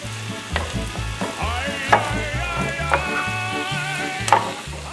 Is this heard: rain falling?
no